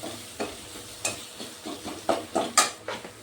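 Turmeric and Kashmiri chilli powder sautéed in a pan for a soybean bori dish: repeated spatula scrapes and stirring knocks over a low, steady sizzle, close and alone.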